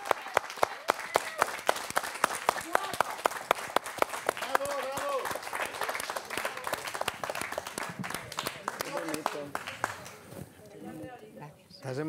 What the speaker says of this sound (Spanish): ¡Fuerte aplauso para Moncha Rodríguez!